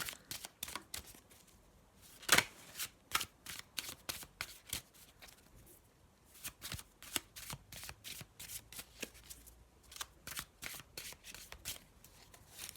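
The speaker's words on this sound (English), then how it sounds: "So let me just have a little shuffle for you" A deck of tarot cards being shuffled in quick riffling bursts, close and crisp, with one louder snap near the start and no talking.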